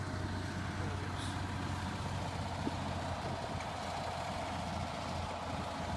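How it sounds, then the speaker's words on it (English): A diesel truck engine runs steadily, a low, even rumble heard at a moderate distance with a faint constant hum and no pauses. "hundreds of gallons of diesel just being fucking pissed right out the exhaust"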